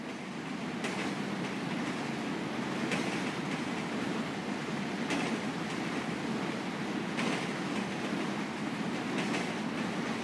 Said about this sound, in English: Train ain't stopping here, boy.